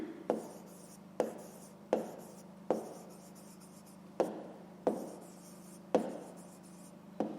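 A pen or pencil writing out a fifth-grade math answer on paper, heard up close as a string of short scratchy strokes, each with a quick tap at the start, in a quiet room with no talking.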